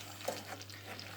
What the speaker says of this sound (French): On met notre sucre, littéralement, et on tourne tout cela donc à feu doux